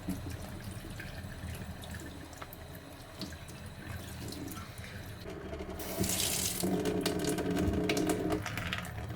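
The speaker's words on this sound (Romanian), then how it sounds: "Lăsați apa să curgă într-un fir cât mai subțire." Water runs from a tap in a thin, steady stream, with a brief louder splashing surge partway through, wetting sandpaper for hand polishing.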